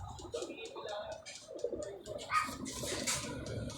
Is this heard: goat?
no